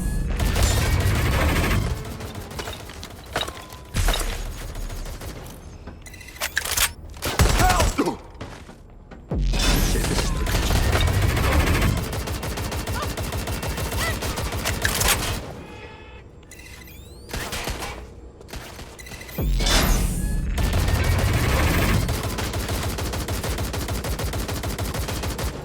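Gunfire in Watch Dogs Legion: bursts of automatic shots and booms come and go over a steady game backdrop, loud near volleys separated by quieter stretches.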